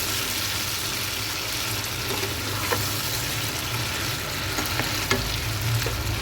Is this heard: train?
no